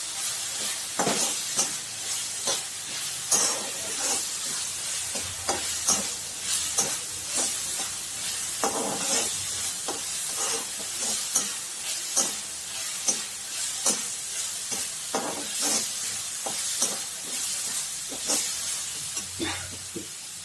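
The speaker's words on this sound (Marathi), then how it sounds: "कांदा, हिरवी मिरची आणि लसूण छान भाजून झाल्याच्या नंतर" Onion, green chili and garlic frying in a pan, with a loud continuous sizzle and hiss broken by repeated scraping stirs of a spoon, close up, with no voices.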